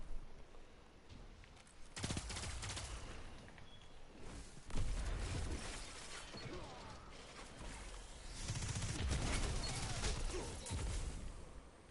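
A shotgun in the video game Destiny 2 booms in bursts of gunfire amid the mechanical clatter and crashes of a busy firefight, with several louder blasts standing out.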